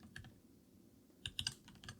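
Quick bursts of keystrokes on a computer keyboard, with a short rapid cluster of clicks near the end; close and soft, no talking.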